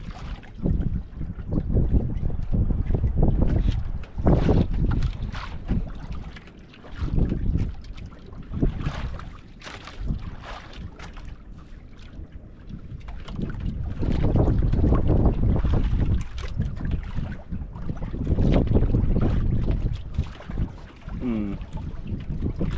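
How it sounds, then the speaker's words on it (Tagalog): Strong gusting wind buffets the microphone in rough, swelling roars, with a low rumble underneath and no voices. "Hangin."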